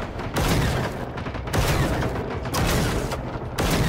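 Gunshots in the video game Generation Zero, a series of loud sharp blasts repeating roughly every second, each followed by a rolling rumble, close and dominant.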